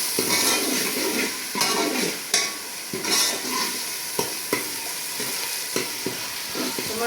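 Tomatoes being stirred into frying masala for an arbi (taro root) curry: a steady, close sizzle with scraping spoon strokes and occasional clinks against the pan, no voices.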